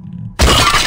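A television being smashed in a mystery video game set in an old house, with a sudden loud glass shatter bursting in after a quiet moment and crackling debris trailing off for a split second.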